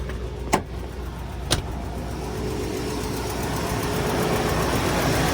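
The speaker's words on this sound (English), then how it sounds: "Yeah, the engine's running good." A 2009 Volkswagen CC Sport's engine idles with a steady low hum, preceded by two sharp clicks.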